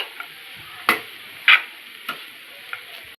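Flattened rice is sautéed in a pan for softened poha, with a steady soft frying hiss broken by four or five sharp spatula scrapes and taps spaced roughly half a second apart, close and clear with no voices.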